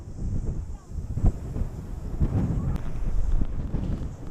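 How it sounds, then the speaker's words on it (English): Wind buffets the microphone on the summit of Mount Eden, an Auckland volcanic cone, as a steady low rumbling roar with gusty swells and no talking. "Wind."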